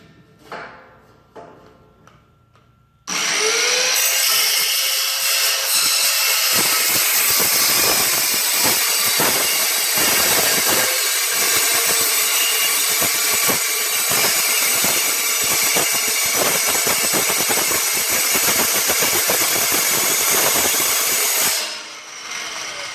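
A power saw cuts steel for a 2010 Dodge Challenger GTX build, its blade screaming loud and steady for about nineteen seconds after a quiet start, then winding down at the end with no one speaking.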